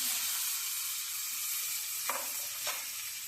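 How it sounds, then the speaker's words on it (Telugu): A tomato fries in hot oil in a pan, a continuous close hiss and sizzle with a couple of brief utensil taps near the end. "ఒకే టమాటా అండి, ఇది బాగా నూనెలో వేయించుకున్నామండి."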